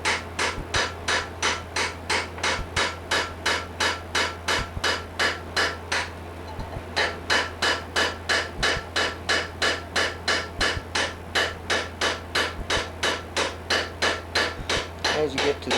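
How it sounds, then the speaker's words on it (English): Hammer tapping a chisel to cut an outline for fine silver inlay, a fast even series of sharp metallic taps repeated dozens of times, close and alone, with one short pause. "What I like to do is go ahead and chisel the outline."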